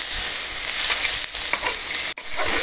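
Neem leaves fry in a pan with a loud, dense, continuous crackling sizzle, briefly cut by a short gap near the end.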